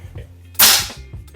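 A single sharp, loud crack from an FX Wildcat Compact .22 caliber air rifle is fired close by, standing alone over a faint low background hum and decaying quickly.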